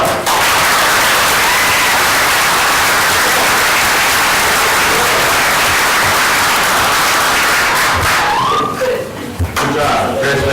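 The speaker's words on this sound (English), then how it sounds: "round of applause" Loud, dense applause fills a council meeting room for about nine seconds, then thins out as voices begin talking near the end.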